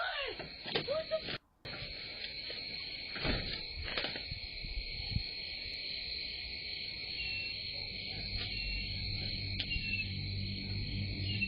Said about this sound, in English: surrounded by the sound of chirping crickets